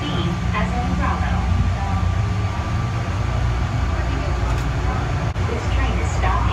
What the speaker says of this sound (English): This train is stopping.